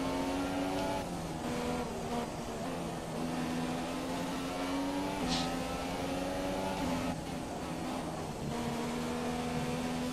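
A Formula 1 car in F1 2017 at the Italian circuit screams at high revs, its engine tone rising and dipping with gear shifts as it slides, loud and continuous, with no talk.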